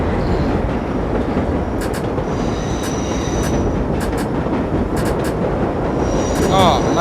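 A New York Line 7 subway train runs in World of Subways, giving a loud, continuous rumble of wheels on rails with brief squeals and clicking, while another train runs alongside and someone talks over it.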